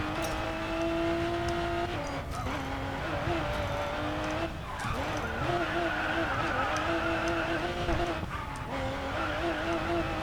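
A Toyota GR Supra with a JDM engine sound in the racing game Racing Master: a loud, steady droning engine note that rises and falls with gear changes, with a voice talking over it throughout.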